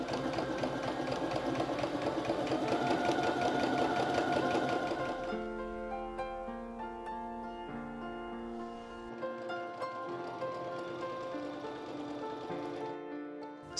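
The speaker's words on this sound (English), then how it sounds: "Stitch 7 millimeters from the edge and leave the ends of the channels open." A sewing machine runs a steady, close whir while stitching the casing channels of a gathered dress for about five seconds, then stops as soft instrumental music carries on alone.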